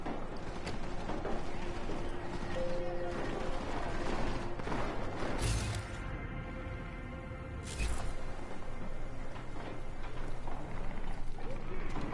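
Gunfire in the video game Deus Ex: Mankind Divided, shots aimed at books: a steady run of distant, rapid shots under ongoing game noise, with a couple of louder bangs standing out and a voice talking over it.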